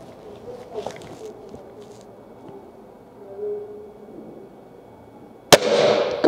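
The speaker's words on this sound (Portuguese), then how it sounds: "o disparo da tampinha que está furada." A single sharp crack from a SAG R1000 air rifle fired outdoors at a bottle cap, loud and abrupt near the end and followed by a brief ringing tail, after several seconds of quiet outdoor ambience.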